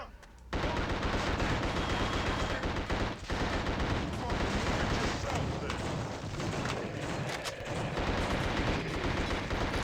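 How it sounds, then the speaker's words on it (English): A Tommy gun fires in The Suffering game in long, dense, loud bursts that run almost without a break, with a brief pause partway through and faint voices beneath. "Tommy gun isn't super accurate"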